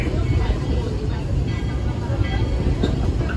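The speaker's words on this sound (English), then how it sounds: "As we arrive into the station, please remain seated until the train comes to a full and complete stop." The Walt Disney World Railroad train rolls into Main Street Station, a steady low rumble of the cars and engine filling the whole stretch without any clear voices.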